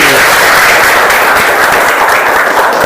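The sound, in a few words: students applauding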